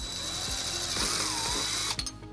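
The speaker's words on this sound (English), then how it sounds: "using a 3/16 drill bit, we're going to drill our first hole." A power drill with a 3/16 bit whirs steadily at close range for about two seconds, grinding through material on a 2008 Dodge Nitro during trailer wiring installation, then winds down abruptly.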